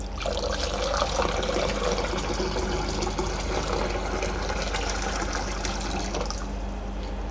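Water poured steadily into a thick mixture, a continuous close trickle and splash that runs for several seconds without talk.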